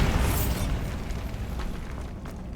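A Bombarda blast spell detonates in Hogwarts Legacy, a loud close boom with a broad rumbling burst that slowly decays over a couple of seconds.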